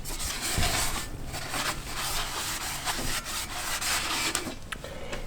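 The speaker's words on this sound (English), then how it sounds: "make sure you clean these housings out really good" Someone scrubs and wipes out the inside of a Fab9 rear end housing, making a steady, close, gritty rubbing with bursts of scraping and brushing and no talk.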